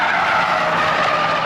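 Tyres of a BMW 535d screeching on a race track, a loud, sustained, steady squeal held close throughout with no talking.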